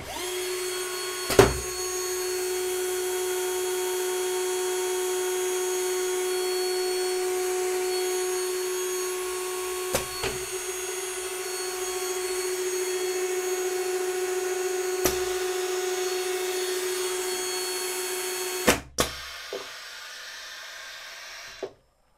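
A pneumatic system with an air filter, regulator and lubricator running, giving a steady airy hiss with a faint tone, broken by a few sharp valve clicks and bursts of exhausting air, then cutting off near the end.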